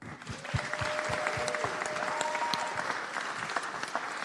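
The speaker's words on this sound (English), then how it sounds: "So I just want to give him a round of applause for that" Applause at an Oakland city council meeting, a crowd clapping steadily and fairly close, with a few distinct louder claps at the start and murmured voices underneath.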